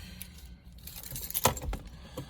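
A set of two keys for a 2018 Ford F-150 XLT pickup jingles briefly in a quiet cab, with a short bright metallic rattle in the middle and a few soft clinks around it.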